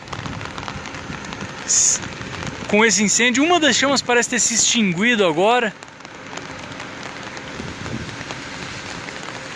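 Steady rain hiss runs throughout at a fire on a radio transmission tower in Cascavel, Brazil, with someone speaking over it for a few seconds in the middle.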